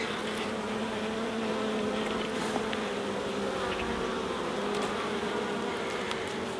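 Honey bees in an opened hive during a queen check drone in a dense, continuous buzz that holds steady and close throughout, with no voices.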